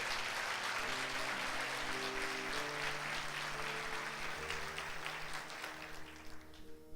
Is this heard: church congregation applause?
yes